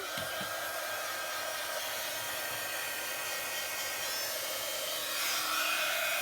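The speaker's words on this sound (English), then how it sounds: "I get my heat gun so it'll get a bit noisy now." A heat gun gives a steady, airy blowing roar throughout, rising slightly louder near the end, with no voices.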